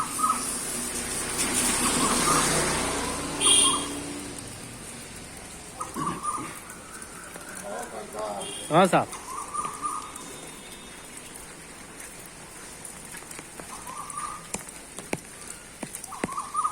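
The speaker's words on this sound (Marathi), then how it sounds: "तिकडे एक कोकिळा आहे आणि ही इथं या झाडाला बसलेली आहे" An Asian koel calls a few times at intervals from a tree over quiet evening ambience with light rustling, and someone briefly speaks.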